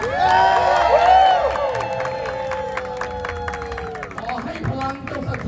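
A crowd cheers and claps loudly for children at a Diana competition, with whoops and shouts rising over a sustained roar that eases slightly toward the end while a voice carries on underneath.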